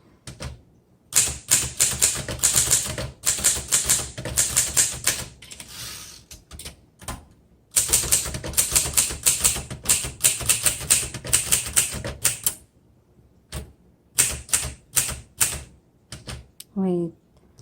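Rapid bursts of keystrokes on a 1955 Underwood Universal portable manual typewriter, sharp clacking strikes in quick runs separated by brief pauses, close and loud, ending with a ratcheting carriage sound.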